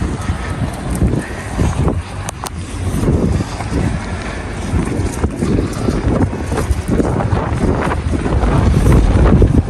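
Strong cold wind gusts steadily against the microphone on a freezing winter morning walk, a loud, continuous low roar that builds in force toward the end, with no talk.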